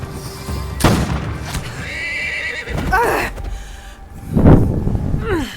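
A horse in Assassin's Creed Shadows whinnies loudly several times as it dies, its cries mixed with clattering game effects and dull booms.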